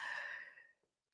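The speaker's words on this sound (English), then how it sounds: "oh, now I have to sneeze." A single breathy sneeze, loud and close, trailing off after under a second into near silence.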